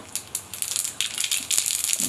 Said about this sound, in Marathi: मोहरी छान तडतडली